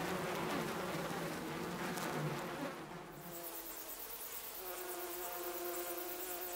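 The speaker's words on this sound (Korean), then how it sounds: "꿀벌들이 바삐 들락거리는 것으로 보아" Honeybees buzz steadily in and out of a hole at the base of an old tree in a rural woodland, a dense, continuous hum that thins slightly partway through, with no voices.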